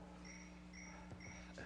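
A cricket chirping in a pocket indoors during a city council meeting, short repeated high trills coming in regular bursts, faint and close, with no talk over it.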